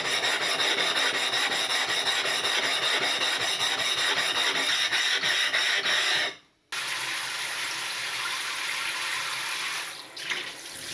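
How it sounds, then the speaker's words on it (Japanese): A whetstone soaked in water rubbed against a coarse whetstone to flatten its surface, a loud continuous wet rasping scrape that stops for a moment mid-way, then resumes alone. "粗めの砥石とこすり合わせて表面を平らにしていく。"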